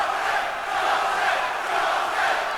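An MMA fight crowd roars wildly in a sustained, dense wall of cheering, loud and continuous with no gaps.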